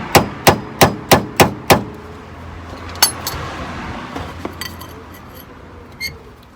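Six sharp metallic hammer strikes in quick, even succession, loosening rust inside the wheel hub of a Mercedes SLK R170, followed by a quieter stretch with a few scattered clinks and scrapes.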